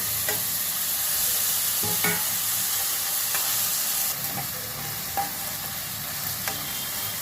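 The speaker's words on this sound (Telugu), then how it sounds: "ఇందులో ఈ బెండకాయ ముక్కలు కూడా వేసేస్తున్నాను. ఇవి వేగిపోతాయి." Okra pieces fry with curry leaves and green chillies in a pan, making a continuous loud sizzle with a few light stirring clicks, close up and without talking.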